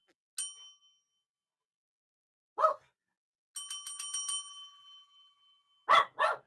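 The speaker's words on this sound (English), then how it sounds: "That is the bell of silence." A small ringing bell, like a bicycle bell, struck once and then rung in a rapid burst, alternating with short sharp dog barks from a puppy in a quiet room.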